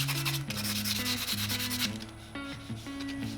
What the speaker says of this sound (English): we want to take this sandpaper. This is just kind of a rough grit sandpaper, and we want to kind of just rough everything up on the back